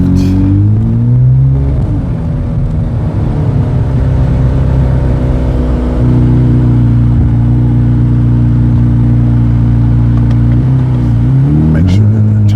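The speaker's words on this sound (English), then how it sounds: "Wide open throttle to the left." Corvette C8 Z06 with turbo engine roars at wide open throttle, a loud sustained engine drone that rises and shifts pitch through gear changes, heard from inside the car.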